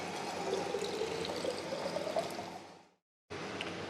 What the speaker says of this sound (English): And fill it with distilled water.